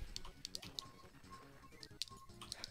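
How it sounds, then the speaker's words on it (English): Quick, irregular clicks of fingers typing on a computer keyboard during a Kirby: Nightmare in Dream Land speedrun, soft close taps in uneven bursts under low background sound. "He's typing."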